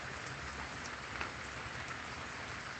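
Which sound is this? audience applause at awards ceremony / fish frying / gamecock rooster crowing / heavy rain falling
heavy rain falling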